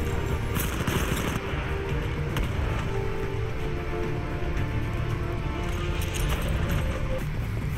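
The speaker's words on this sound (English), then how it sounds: "they're trying to shotgun me." Shotgun gunfire in the video game Titanfall: a dense, continuous battle mix with rapid shots and crackling bursts that never let up over several seconds.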